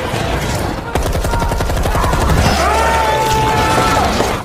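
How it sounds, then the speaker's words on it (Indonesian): A rapid burst of gunfire rattles off in a steady stream of sharp shots, loud and close, followed by a rising tonal whine. "sementara yang lain melepaskan tembakan"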